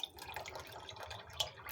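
Water poured a little at a time into beaten yogurt for thick lassi, faint soft trickles and drips with small splashes, quiet and close.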